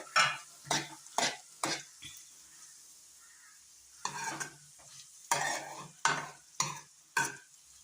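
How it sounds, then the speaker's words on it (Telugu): Radish and moong dal curry is stirred in a pan on low flame, giving a series of distinct scraping strokes in uneven bursts, several quick ones, then a pause, then more, over a faint background, close by. "ఇప్పుడైతే మనం దీన్ని అప్పుడప్పుడు కలుపుతూ ఉండాలండి, మాడకుండా ఉంటుంది కాబట్టి లో ఫ్లేమ్లోనే పెట్టుకొని వేయించుకోండి."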